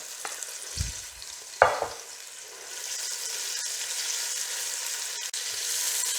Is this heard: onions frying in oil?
yes